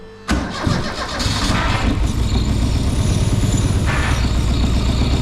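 A Zetec turbo Mk2 Ford Fiesta engine cranks and fires, then settles into a loud, close, steady idle that holds for the rest of the clip.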